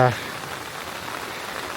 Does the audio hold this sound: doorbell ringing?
no